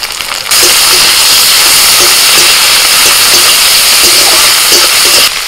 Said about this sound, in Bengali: এবার চিংড়ি মাছের মাথা খোসাগুলো দিয়ে দিচ্ছি